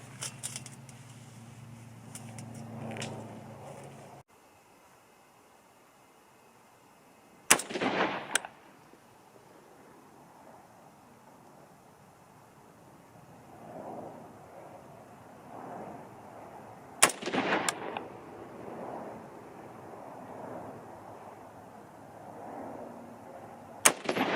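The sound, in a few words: last three shots from a hunting rifle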